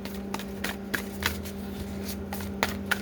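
Cards riffle and snap in short bursts, several quick shuffles close by against a steady low hum, with no talking.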